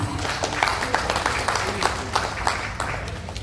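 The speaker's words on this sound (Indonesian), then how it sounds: "kita kasih tepuk tangan yang meriah" An indoor audience at a regional logistics association assembly in Papua claps enthusiastically, dense continuous applause with scattered sharper claps throughout.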